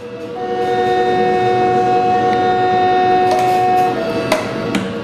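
A Moroccan high-speed TGV train horn sounds a long, steady blast, loud and close, over the rumble of the moving train, with brief sharper notes near the end.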